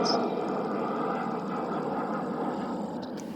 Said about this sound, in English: And that aeroplane was so noisy.